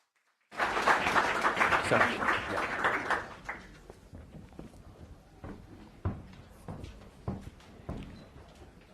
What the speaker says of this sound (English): Let's give a round of applause for Jeremy